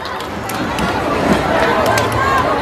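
An audience at a live stage show in Dang gives steady, dense applause to welcome a singer, with crowd noise and a voice speaking over the clapping.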